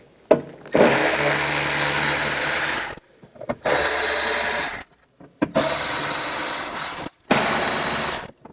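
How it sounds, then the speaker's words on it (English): Socket ratchet with a T15 bit backing out screws on the inner fender liner of a 2015-2020 Cadillac Escalade, heard as four long, loud, steady whirring runs separated by short pauses, close up and without talk. "I'm going to use a T15 socket."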